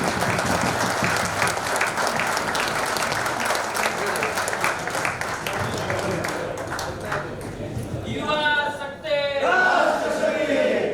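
Loud audience applause fills a hall during an organizational workshop for provincial and branch officials, a dense sustained clapping that thins toward the end as a voice begins speaking.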